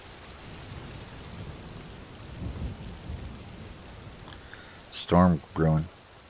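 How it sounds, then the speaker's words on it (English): A thunderstorm in the VR game Skyrim brings a soft wash of rain and a low rumble of thunder swelling midway, before a person speaks briefly near the end. "Here comes the storm."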